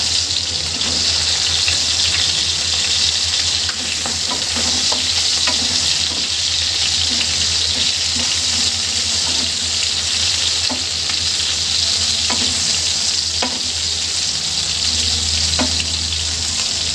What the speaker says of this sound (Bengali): মশলাগুলো একসাথে ভেজে থাকুক।